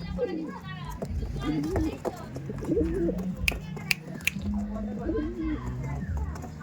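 Kalanka and Kaldom breed pigeons coo and flutter close by in a loft, soft repeated cooing mixed with scattered clicks and wing sounds while people talk nearby.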